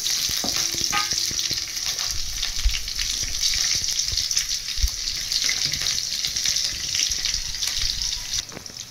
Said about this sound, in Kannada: ಕಡಲೆಬೇಳೆ ಎಣ್ಣೆಲಿ ಸ್ವಲ್ಪ ಚೆನ್ನಾಗಿ ಫ್ರೈ ಆಗಬೇಕು